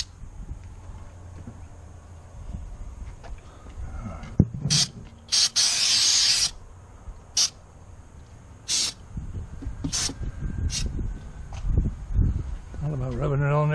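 Lubricant is sprayed from an aerosol can onto a boat's steering cable in several short hissing bursts of varying length, with someone talking between and after the sprays.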